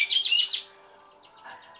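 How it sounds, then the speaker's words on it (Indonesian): White-rumped shama and prinia singing: a bright, rapid trilling phrase followed by softer chirps after a brief pause, close and clear. "cibleknya ikut gacor, murainya juga ikut bunyi"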